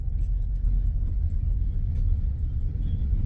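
A 2024 Mazda CX-5 SUV in four-wheel drive pushes through muddy water off road, heard as a continuous low engine and tire rumble from inside the cabin, steady with no talk.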